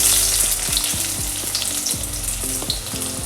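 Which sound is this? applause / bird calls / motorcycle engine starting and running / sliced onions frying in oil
sliced onions frying in oil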